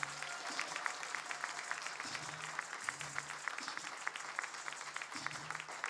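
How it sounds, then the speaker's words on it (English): A football banquet crowd applauds for the head coach, a steady even patter of many hands heard at a distance, low and continuous, with faint murmurs and voices beneath it. "we're going to start a round of applause"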